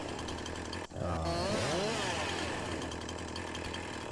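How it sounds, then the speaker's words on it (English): A chainsaw in Farming Simulator 19 revs up and runs steadily while delimbing a felled tree during logging, a loud, close, continuous buzzing engine with pitch sweeps as it cuts, after a brief dip at the start. "get the chainsaw running, and go up the tree, and that helps delimit"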